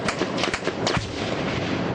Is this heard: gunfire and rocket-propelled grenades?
yes